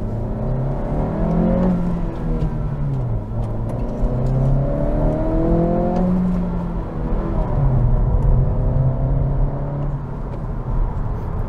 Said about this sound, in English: Driving the 2023 Integra,